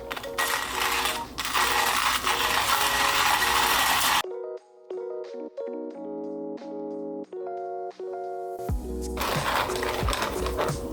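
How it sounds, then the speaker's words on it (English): A manual coffee grinder set to an AeroPress grind crunches through coffee beans, a loud rasping churn in two bursts separated by a quieter stretch of music. "And now we've got coffee ready to grind."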